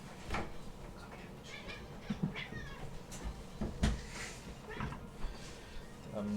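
A pet cat named Mango meows a few times, short nasal calls scattered through a room with faint household knocks and bumps, fairly close but not loud.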